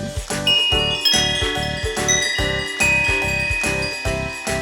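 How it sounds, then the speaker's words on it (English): Wind chimes made from pots and pans jingle and ding in a quick, steady rhythm of metallic strikes, each clang ringing out bright and clear with lingering overtones. "It's some fun pot and pan wind chimes."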